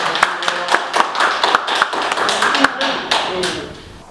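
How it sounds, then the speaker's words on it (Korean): Audience at a business club gathering clapping together in a steady, rhythmic unison beat, a dozen or so sharp, loud claps evenly spaced and fading slightly toward the end. "우리 모두 하나하면서 박수 한번 치겠습니다"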